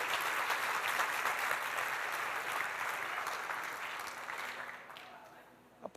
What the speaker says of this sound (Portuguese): Se é para aplaudir, aplaude direito.